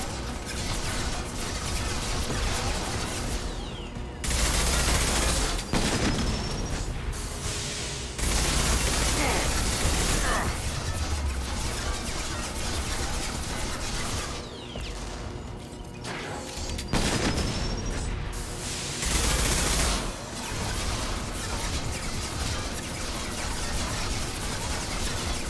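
Assault rifle fire in Mass Effect 2 Legendary Edition comes as repeated dense bursts of automatic shots with crashing impacts, loud and sustained across the stretch, broken by brief pauses between volleys.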